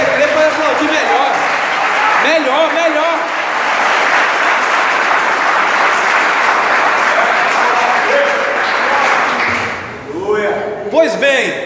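Loud, sustained applause from a church congregation filling nearly the whole span, with a preacher's voice speaking over the clapping before it dies away near the end.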